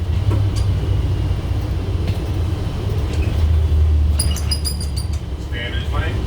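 A retired 2001 Gillig Phantom transit bus, number 603, rolls along with a steady, loud low engine and road rumble inside the cabin, plus a few faint high chirps near the end.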